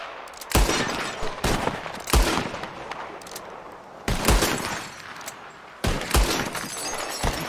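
Revolver shots fired at bottles in Red Dead Redemption 2, five sharp cracks spaced about a second or more apart, each followed by a bright shattering tail of breaking glass.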